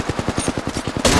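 Automatic gunfire from the video game Apex Legends, a steady rapid burst of about a dozen evenly spaced shots over roughly a second, loud and close, ending in a brighter blast of noise.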